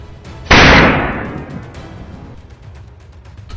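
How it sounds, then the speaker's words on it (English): Single rifle gunshot fired at dawn, a loud sharp crack followed by a long rolling decay that fades over about two seconds. "In one fluid motion, Afwami raises his rifle, steadies his aim, and fires."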